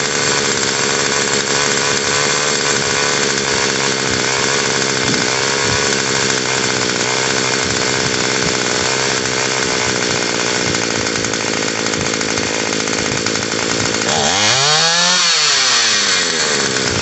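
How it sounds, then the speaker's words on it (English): A Murray M2500 gas string trimmer engine runs continuously at a loud, buzzing high rev for most of the stretch, then its pitch swoops down and up near the end as the throttle changes. "So we're going to idle this down until the head of the weed eater stops spinning."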